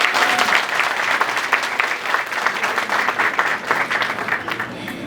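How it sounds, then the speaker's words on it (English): An audience at a senior graduation claps steadily, a dense wash of applause that holds at full strength for several seconds. "I ask all to clap your hands for Jaman, please."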